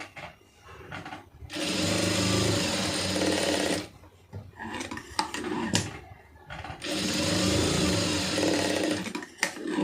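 An electric sewing machine stitches a cup for a blouse made of grape silk cloth, running in two long, steady whirring bursts separated by a pause filled with handling clicks and rustles.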